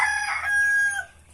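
A rooster crows once among farm chickens, a single loud, close call that holds steady for about a second before trailing off, with no other sounds around it.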